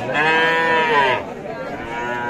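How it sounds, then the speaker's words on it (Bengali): A young bull calf at a cattle market gives one loud, close moo lasting about a second, followed by low background murmur. "এখানে আমরা দুইটা ষাঁড় বাচ্চা দেখছি"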